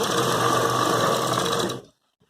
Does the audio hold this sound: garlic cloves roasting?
no